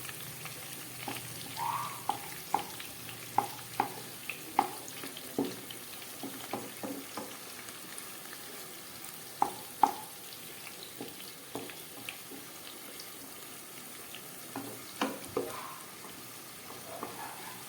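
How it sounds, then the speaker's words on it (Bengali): Onion frying lightly in a pan over low heat, a soft, quiet sizzle broken by irregular clicks and scrapes of stirring, with no voices. "পেঁয়াজটাকে একটু হালকা করে ভেজে নিচ্ছি।"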